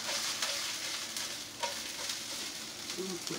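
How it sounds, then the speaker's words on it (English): Food sizzles and crackles steadily in a hot pan, with occasional stirring scrapes and clinks close by. "Sizzle."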